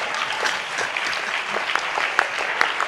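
A congregation at a church ministry gathering applauds the pastors, dense continuous clapping with a few sharp louder claps standing out, steady throughout with no talking over it.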